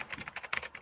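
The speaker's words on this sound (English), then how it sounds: "You can hear that typing in the background." Typing on a computer keyboard, a quick steady run of light clicking keystrokes, faint and in the background with no voices.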